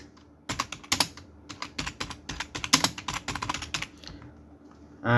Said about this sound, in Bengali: আমি পূর্ণ নামটা লিখে দিচ্ছি সুমন আহমেদ